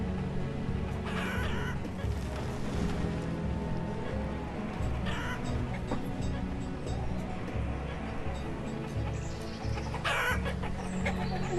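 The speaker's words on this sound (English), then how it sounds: "All the chickens." Chickens in the video game Banished cluck and squawk now and then over a dense, steady bed of ambient game sound and music. The bird calls come through faintly rather than standing out.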